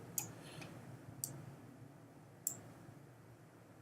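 Sharp computer mouse clicks, three spaced a bit over a second apart plus one at the very end, faint and close over a quiet low hum while editing with a multi-cut tool.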